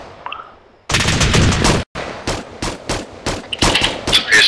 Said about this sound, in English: feel free to open fire on him